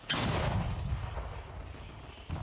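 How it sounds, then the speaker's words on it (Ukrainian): A loud, heavy boom of artillery firing long-range charges near Bakhmut rolls out and slowly fades, and a second blast starts just as the clip ends. "Працюватимуть далекобійними зарядами."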